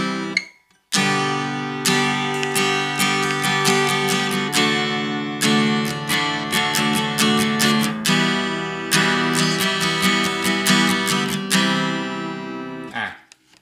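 An acoustic guitar with a soundhole cover fitted is strummed in repeated chords, the tone boxy and damped with little bass or body resonance, sounding close to an electric guitar; brief pauses between strums, no talk.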